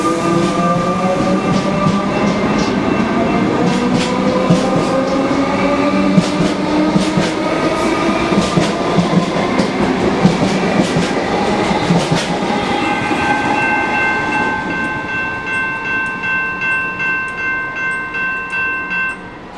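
A suburban Melbourne Frankston line train passes near a level crossing, its loud continuous rumble and rail clatter filling the scene, ending in a steady rhythmic clickety-clack as the carriages roll by.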